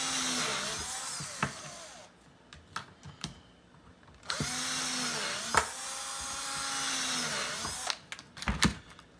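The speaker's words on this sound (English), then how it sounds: "We're going to drill the 4 holes" A power drill bores four holes for a homemade face shield, its motor whining up and down in two sustained runs close by, with short clicks and pauses between.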